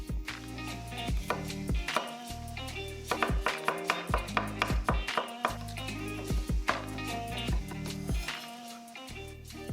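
Garlic being finely minced with a knife on a cutting board while vegetable fritters are prepared, quick rhythmic chopping taps in bursts over a steady musical background.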